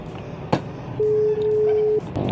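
A phone placing a call gives a single steady ringback tone lasting about a second, clear and close, between a few soft clicks and rustles.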